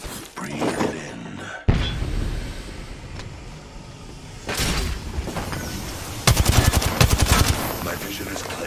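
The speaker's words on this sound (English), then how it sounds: "Getting shot at." Gunfire in the Apex Legends battle royale game comes in bursts of rapid shots, a dense volley near the end, over a steady game-world background, with a voice in places.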